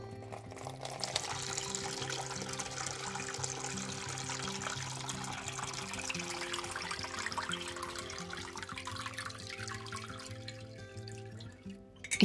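Brine is poured off a batch of lacto-fermented cucumbers, a steady close stream of splashing liquid running for several seconds before it tapers off.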